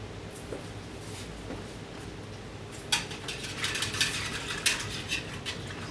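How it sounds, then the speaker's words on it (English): A spoon stirs and scrapes around a pot on the stove during a roast beef po'boy recipe, with faint clinks at first, then a cluster of louder metallic knocks and scrapes close by, with no talk. "Stirring the pot again."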